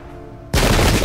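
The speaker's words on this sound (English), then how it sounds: "everybody is opening fire at this point, trying to score a hit" Massed musket volley fire in the Pike and Shot strategy game, set in a Bohemian campaign battle: after a quiet opening, a loud dense crackle of many muskets bursts in and rolls on without a break.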